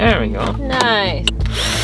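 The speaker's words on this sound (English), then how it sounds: "we're gonna try and drill a pilot" A power drill whirs in short bursts while drilling a pilot hole, its pitch rising as it bites into material, with people talking over it on an off-grid sailboat.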